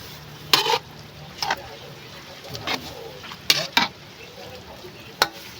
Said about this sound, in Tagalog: haluin ko muna para maglamot yung bihon